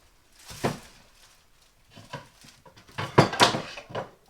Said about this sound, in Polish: bierzemy deskę i kroimy mięso